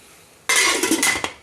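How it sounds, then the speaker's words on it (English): A metal lid set down over a cooking pot on a stovetop makes a sudden clattering clank of cookware, followed by a second softer knock about three-quarters of a second later. It is close and loud, with no talking. "Make sure you put the lid over the pot."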